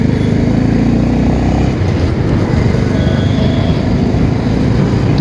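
A motorcycle engine with a stock exhaust runs loud and close with a deep, steady thumping exhaust note, continuous throughout, on a winter morning commute.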